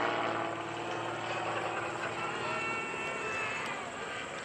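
An aerobatic propeller airplane's engine during an inside snap roll at a lakeside airshow gives a steady, moderately distant drone that holds evenly throughout without breaks.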